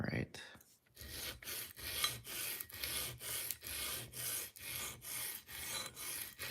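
Knife being sharpened on a diamond stone in a shop, with about a dozen evenly spaced rasping strokes of steel across the abrasive surface, close and clear, with no talk.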